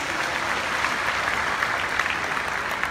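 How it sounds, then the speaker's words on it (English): A conference audience of delegates claps in a steady, even round of applause, dense and continuous for the whole stretch with no voices standing out. "let's give them a round of applause"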